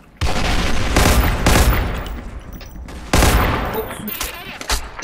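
Gunfire in the Special Force 2 shooter game, including a sniper shot: several loud, sharp cracks with booming tails, spaced irregularly over a few seconds, with faint voices in the background.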